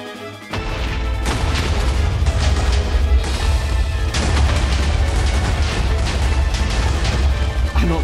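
Buildings in a Minecraft game are blown apart by explosives, a loud sustained roar of booming blasts and crashing debris that starts abruptly and rumbles on with repeated surges.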